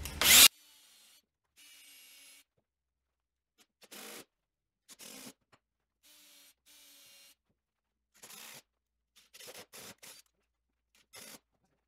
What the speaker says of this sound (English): Next, I'll pre-drill the 4 holes for the screws to hold the front part.